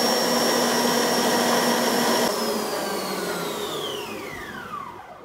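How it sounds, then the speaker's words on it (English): A countertop ice cream machine churning espresso ice cream, giving a steady loud motor whir whose pitch slowly drops and fades over several seconds, with no talking. "Now we leave it to the machine to do the work."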